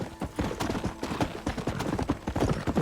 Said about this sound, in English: essas viagens a cavalo aqui é um pé no saco